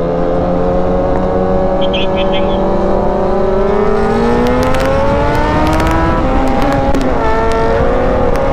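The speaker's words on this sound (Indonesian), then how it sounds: "Avanza kenceng kali." A Toyota Avanza car engine roars past at speed, its pitch rising and then dropping away, with voices talking over the engine noise.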